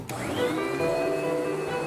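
A vacuum cleaner drones steadily while cleaning a palace interior at Versailles, its motor starting with a brief burst and settling into a constant whine, close and fairly loud with no talk.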